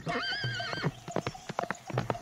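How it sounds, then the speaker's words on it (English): A farm horse running away from an open stable, giving a clear high neigh followed by a quick series of hoof clip-clops, close and fairly loud over a light background. "the farmer's son left the stable door open, and the horse ran away"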